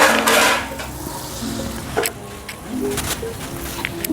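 Gulgule fritters fry in hot oil with a steady close bubbling sizzle, punctuated by a few light utensil clinks, and a faint voice briefly in the background.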